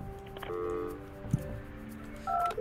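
A short, bright electronic placement chime when a phone line is set down in the office-tower building game Project Highrise, a clear tonal blip over soft background music, followed by a higher two-note beep near the end.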